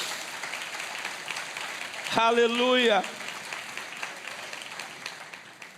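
A church congregation claps for the name of Jesus during a Portuguese sermon, a steady wash of applause with a voice shouting loudly over it briefly in the middle.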